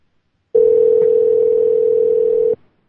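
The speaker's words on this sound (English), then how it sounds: "Oh, I hear the ringtone." A single steady telephone ringback tone on a radio call-in line holds for about two seconds, loud and clean, then cuts off abruptly into silence.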